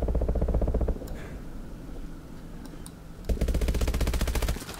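Rapid automatic gunfire in the video game Call of Duty: Advanced Warfare, two long bursts of fast, evenly spaced shots separated by a quieter stretch, with no talking.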